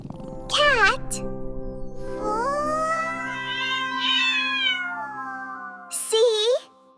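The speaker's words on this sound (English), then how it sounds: "Cat." A cat meows several times, loud and close, with rising and falling drawn-out calls and a short final mew, alone against a quiet background.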